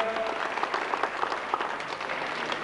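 Audience applause for a world kickboxing champion at a ceremony, a steady dense patter of many hands clapping at moderate volume, evenly sustained throughout with no voices over it.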